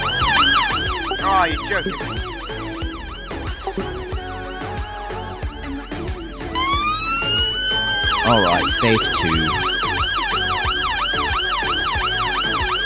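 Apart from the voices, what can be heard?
sirens in a video game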